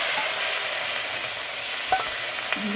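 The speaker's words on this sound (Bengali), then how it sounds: "এই বাটি ধোয়া জলটা একটু দিয়ে দিলাম" Water poured into a pan of frying onion and poppy-seed paste, a loud steady sizzle and hiss throughout with a couple of brief utensil clinks near the end.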